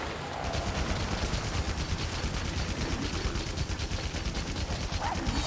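Machine gun fire in Monster Hunter Rise: a rapid, steady stream of evenly spaced shots that starts after a brief pause and hammers on loudly for several seconds with mechanical clatter.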